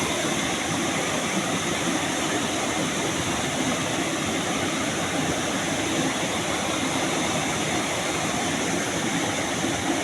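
Steady, loud roar of a waterfall pouring onto rock near Japanese cement work, a dense unbroken rush of water throughout.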